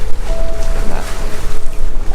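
Sailboat motoring under engine on the approach to La Gomera, a loud steady engine hum with a faint whine, blended with rushing wind and sea noise.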